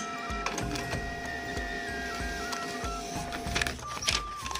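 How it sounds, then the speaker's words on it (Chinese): A photocopier printer runs a print job, its mechanism thumping in a steady repeating rhythm with whirring feed motors and high whines, close and continuous. "看看啊，这打印机没有问题啊"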